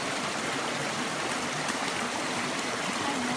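A stream of clean water flows steadily near an outdoor campfire spot, a soft continuous rushing and trickling wash heard up close with no voices.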